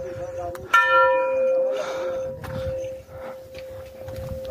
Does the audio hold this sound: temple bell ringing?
yes